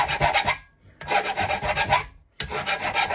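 Three bursts of harsh metal rasping, each about a second long with short pauses between, close and loud, as a file removes burrs from a drilled hole.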